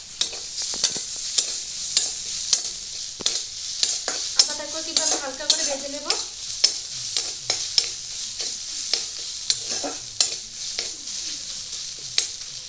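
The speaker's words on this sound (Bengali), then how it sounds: "আদাটাকে কিন্তু আমি হালকা করে ভেজে নেব।" Ginger frying lightly in a pan over onions already browned, a steady sizzle punctuated by regular sharp scrapes and taps of a stirring spoon against the pan.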